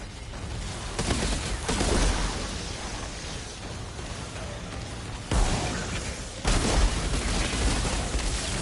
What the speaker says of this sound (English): I have sticky grenades that I can throw with, they're motion sensing sticky grenades